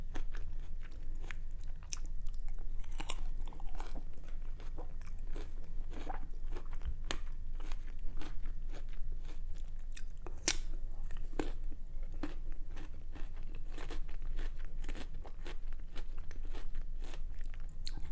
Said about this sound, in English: I think I chew too fast.